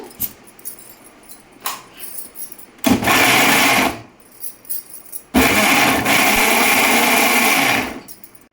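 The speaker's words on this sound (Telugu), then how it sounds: "ఇప్పుడు మనం గ్రైండ్ చేసేసుకుందాము" A mixer grinder grinds raw tomato with coriander in two loud bursts of whirring, the second longer, separated by quieter pauses with small knocks.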